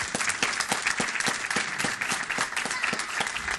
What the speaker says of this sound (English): A round of applause for Don Gibbons,